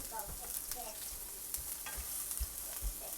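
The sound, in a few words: garlic and onion sautéing in a hot pan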